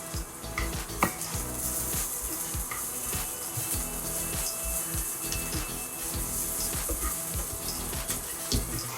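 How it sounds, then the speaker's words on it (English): Onion, bay leaf and julienne sizzle steadily in about two tablespoons of hot oil for chicken vindaloo, with a constant close frying hiss punctuated by clinks and scrapes of stirring in the pan. "Once it's heated, you add onion. Now I will add bay leaf and julienne."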